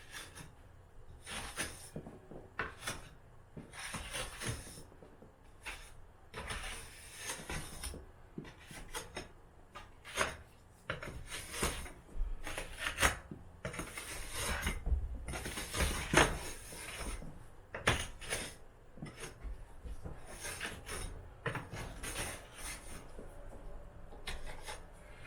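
Bits of scraped-out mortar, about a quarter inch deep, dropping and hitting the floor during a room remodel, a steady run of dry gritty taps and patters mixed with scraping, fairly close and moderately quiet, no talking.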